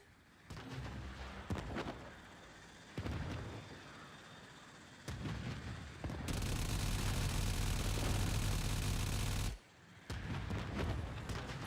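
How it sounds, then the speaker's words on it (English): A cruise ship reactor blows up in Warframe, heavy artillery-like booms and blasts rolling through the first seconds, then a sustained loud roaring detonation, a sudden cut, and more rumbling explosions. "Cruise ship reactor has detonated."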